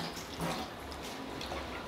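Grated potato shreds are swished and pressed in a bowl of water to wash out starch, giving soft close splashing and dripping sounds with no talk.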